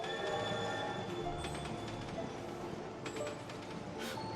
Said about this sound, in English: And I love this. It's the gummy train.